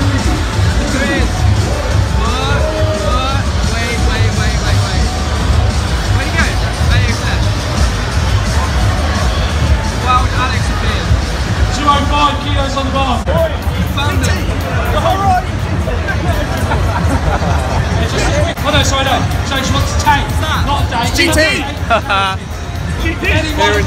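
Dense, loud crowd babble at the Bodypower Expo 2017, many overlapping voices and shouts filling a large indoor hall continuously, with occasional whoops and cheers rising above the din.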